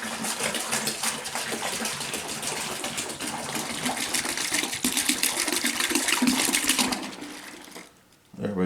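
Water pours into a container while processing a coyote hide, making a continuous gushing, splashing rush that swells in the middle and then tapers off and stops near the end.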